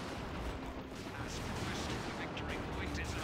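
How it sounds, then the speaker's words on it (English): Guardsmen firing lasguns in the strategy game Dawn of War 2 during a 2v2 match, a dense, steady wash of rapid energy-weapon shots and battle noise continuing without pause at moderate loudness. "Guardsmen shooting their lasguns, trying to desperately get those Sluggers out of there."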